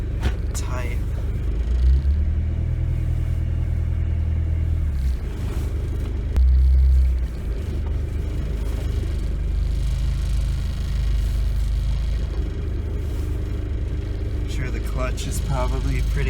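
A 1986 Ford Escort diesel wagon drives around the block, its engine a steady, loud low rumble with a few shifts in pitch as it moves, while someone talks over it inside the car.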